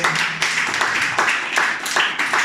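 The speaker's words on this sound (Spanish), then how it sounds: "Vamos a darle un fuerte aplauso a esta tarde." Clapping from a church audience comes in a few uneven swells close by, loud hand claps rising and falling in short waves.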